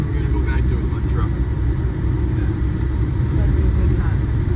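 A pickup truck's engine drones steadily while drifting in snow, a loud continuous low rumble that holds across the whole stretch with little change in pitch.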